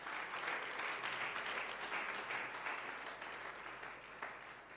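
A church congregation claps together in steady, sustained applause, a dense wash of hands that stays even and then eases slightly toward the end, heard from a distance.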